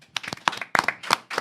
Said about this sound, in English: Let's give the deacon a round of applause.